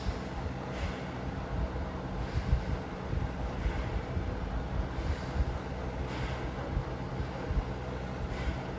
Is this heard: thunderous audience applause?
no